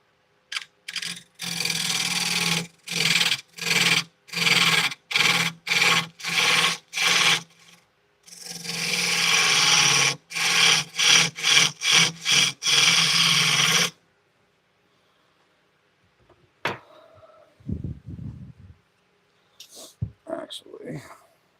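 Rhythmic rasping strokes of a tool on wood, then a stretch of fast repeated scraping bursts, sounding like wood being worked on a lathe with a skew chisel; after these stop, quieter handling noises and a short voice follow.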